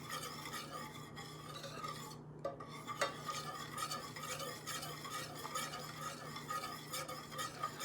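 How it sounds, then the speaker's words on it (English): Sugar being stirred in a pot as it melts into caramel, a steady scraping and soft sizzle running continuously and close, with a brief pause near the middle and no talking. "And now we're going to stir it until it melts."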